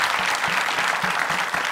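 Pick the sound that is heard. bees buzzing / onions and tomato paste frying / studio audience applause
studio audience applause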